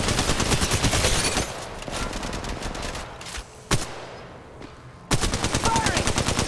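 Rapid automatic gunfire in the mobile shooter Apex Legends Mobile, loud dense bursts that drop away briefly and then resume, with a single sharp shot in the gap between them.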